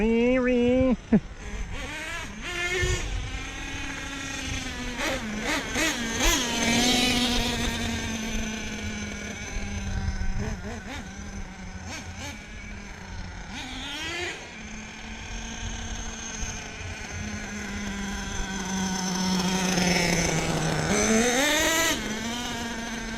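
A Traxxas Savage XL RC truck with a Force .32 nitro engine, being broken in, revs steadily with a thin, whiny buzz that rises and falls in pitch, loud and continuous, with voices talking over it at times.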